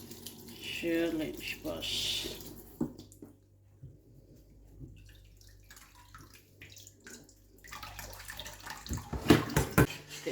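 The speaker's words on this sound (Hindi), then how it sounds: "थोड़ा सा इसमें ठंडा पानी डालती हूँ ऊपर से, ताकि ठंडा भी हो जाए" Cold water is poured over freshly made chhena cheese for rasmalai, splashing and trickling nearby at the start and again near the end, with a short spoken phrase and quieter stretches in between.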